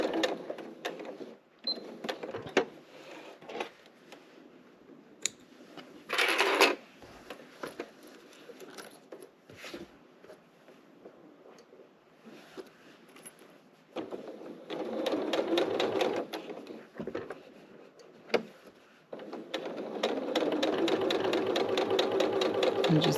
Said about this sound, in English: Just doing a quick little basting stitch along the very edge here.